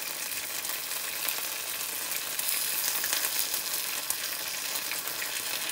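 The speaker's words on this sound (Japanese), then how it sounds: "鍋使った揚げ物やね。" Oil sizzles and crackles steadily in a pot as vegetables deep-fry for tempura, a dense bright hiss close by with scattered pops and no talking.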